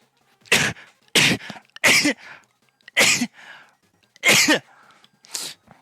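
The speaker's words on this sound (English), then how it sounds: "It just sneezes again." A streamer sneezes and coughs six times in quick succession, each burst sharp and close, with short breathy gasps and quiet pauses between them.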